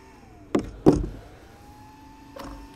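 An ARRMA Kraton 8S RC car being switched off: two sharp clicks close together, a faint thin tone sliding down behind them, then one softer click a moment later in a quiet room.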